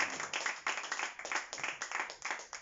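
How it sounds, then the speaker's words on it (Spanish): A church congregation claps during a Spanish-language sermon, a short burst of loud, fairly rhythmic hand clapping from a group, with distinct repeated claps close by. "Denle un aplauso, Señor."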